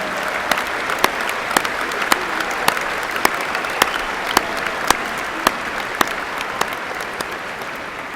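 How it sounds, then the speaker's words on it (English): Thousands of people at a university commencement ceremony applaud in a sustained, even roar of clapping, with a few sharper individual claps standing out near the front. "Moms, where else can you get applause from thousands of people for being a mom?"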